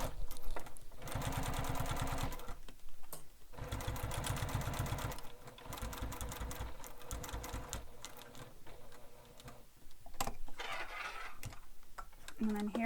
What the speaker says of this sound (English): I'm just back stitching a couple times just to really get those stitches locked in.